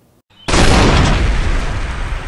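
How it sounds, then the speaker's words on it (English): A gunshot effect for a retelling of the 1858 Steptoe battle on the Palouse cracks out loud and sudden, then rolls into a long, heavy echoing boom. "the first gunshot rang out"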